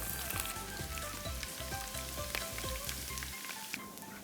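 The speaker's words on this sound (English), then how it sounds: "And for the ginger, we're going to fry." Ginger frying in a pan, a steady close sizzle running throughout with a lower tonal hum underneath that drops away near the end.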